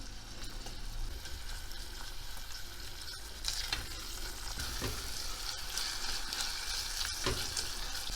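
Tomato and pepper paste with onions sizzles and fries steadily in a pan, with occasional scraping and stirring sounds over the continuous hiss, close and fairly quiet.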